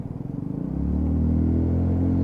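Royal Alloy GP125 125cc motorcycle ridden round a roundabout onto a dual carriageway, its engine note rising from a pulsing idle into a steady, loud, close drone as it accelerates.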